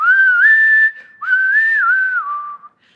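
A father's signature whistled melody, used to announce his arrival, rings out clear and close: a bright rising phrase, a brief pause, then a wavering second phrase that falls and fades.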